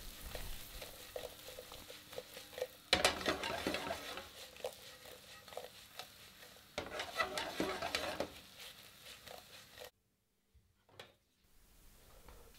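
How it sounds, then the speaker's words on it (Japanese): Thick potato slices sautéing in a frying pan, a close crackling sizzle that swells loudly twice as the pan is moved, then drops briefly to silence before resuming softly. "今回のジャガイモのソテーは厚さが1センチぐらいなので、ブランシーせずにそのままフライパンで仕上げています。"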